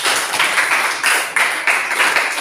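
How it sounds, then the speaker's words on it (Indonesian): Classroom applause for a student discussion group: a steady wash of many hands clapping together, fairly close and continuous, swelling in a few waves without any talking. "Tepuk tangan untuk kelompok C."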